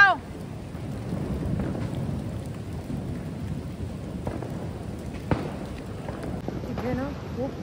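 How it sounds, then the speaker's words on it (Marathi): Heavy rain falling in Thane, a steady wash of downpour with a few sharp cracks, voices talking faintly over it. "इथे ना खूप पाऊस चालू झाला आहे ठाण्याला"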